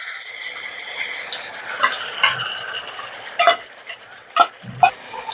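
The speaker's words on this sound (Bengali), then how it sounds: "এবার এই মশলাটা এখানে আমি অ্যাড করে দিচ্ছি।" Ground coriander, cumin and chilli paste soaked in water goes into a hot oiled pan for a cauliflower curry, hissing steadily while a spoon scrapes and clinks against the pan in several distinct strokes.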